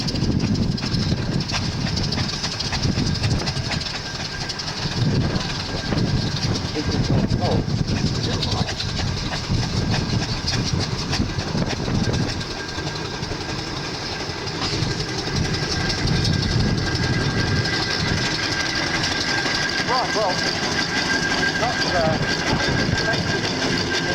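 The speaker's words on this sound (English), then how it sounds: "get the engines in the rings first, and have a little chuff round" Steam traction engines at a Kent steam fair chuffing slowly around the show ring, a rumbling, irregular mechanical churn with distant engine noise, under a commentator's voice over a public address.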